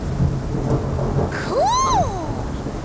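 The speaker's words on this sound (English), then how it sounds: "Cool! Some thunder!" Low thunder rumbles through a steady rainstorm hiss, and a cat-like rising and falling meow cuts in near the end.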